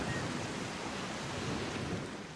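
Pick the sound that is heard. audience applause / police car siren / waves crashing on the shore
waves crashing on the shore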